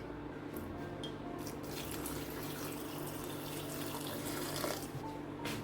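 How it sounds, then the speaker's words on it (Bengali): A bitter gourd is rinsed under a running kitchen tap, giving a soft, steady stream of water with small splashes and drips as it is turned in the flow, fairly quiet and close. "করলাটা যদিও আমি একবার ধুয়ে নিয়েছি তারপরে আবার একটু ধুয়ে নিচ্ছি"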